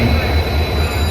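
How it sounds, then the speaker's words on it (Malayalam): Train at a railway station during an engine change, a loud low rumble and rolling rail noise over the short stretch, with a voice audible underneath. "നമ്മൾ വന്ന ട്രെയിനിൻ്റെ എൻജിൻ മാറിക്കൊണ്ടിരിക്കുകയാണ്."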